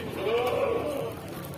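A goat in heat bleats once at a livestock market in Mayong, Jepara, a close, wavering cry lasting about a second over a murmur of background noise.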